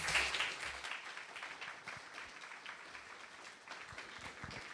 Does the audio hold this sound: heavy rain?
no